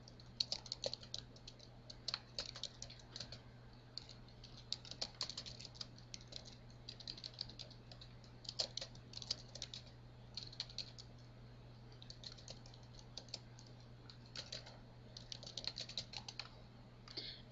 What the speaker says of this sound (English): I can type in my information.